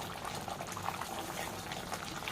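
Shakarpara pastries fry in oil over medium-low heat, giving a steady bubbling, crackling hiss that stays constant and fairly quiet throughout.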